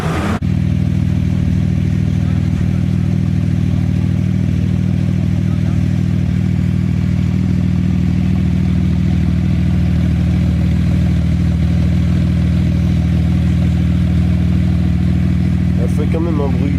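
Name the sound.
raspy Porsche engine at Spa Francorchamps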